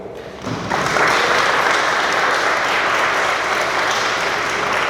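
A crowd at a school athletics banquet breaks into sustained applause, steady loud clapping that starts abruptly and continues throughout.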